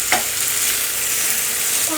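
Marinated chicken dropped into a hot pan sizzles steadily while being stirred, a close, continuous frying hiss with a short scrape at the start.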